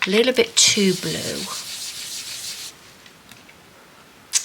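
Colour is rubbed by hand into a recycled paper bag journal cover, making a close, dry, scratchy rubbing for a couple of seconds that begins under a brief voice and then fades to quiet.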